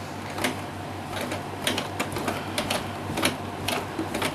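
A sewing machine stitches elastic onto layered net fabric for a small dress, a close, fast clattering rhythm with sharp needle ticks running steadily throughout.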